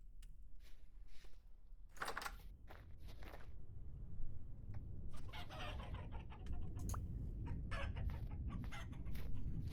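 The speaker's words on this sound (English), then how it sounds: "I thought I heard a chicken die" Chickens cluck in the survival game Vintage Story, with brief clucks and a crowing call over a steady low rumble, along with scattered footsteps and clicks, and no talking.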